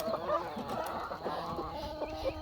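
Chickens cluck and squawk continuously nearby, a busy, overlapping chorus of hens with no pauses.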